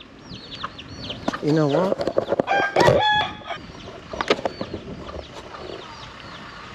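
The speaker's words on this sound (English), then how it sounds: "There's a rooster." A rooster in Bangkok crowing loudly nearby with a rising, wavering call, surrounded by clucks and other fowl sounds, while someone speaks briefly over the farmyard noise.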